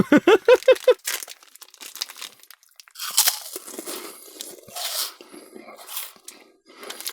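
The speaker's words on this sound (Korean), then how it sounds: "하나 정도는 먹어보도록 할게요 오 우마이보 맛있다" Close, crisp crunching of an Umaibo puffed corn snack being bitten and chewed, with irregular loud crunches spread over several seconds after a short voiced sound at the start.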